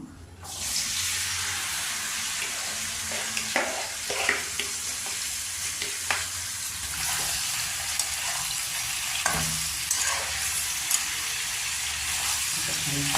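A paneer mixture fries in hot oil with a loud, continuous sizzle and crackle, broken by occasional scraping taps of stirring throughout.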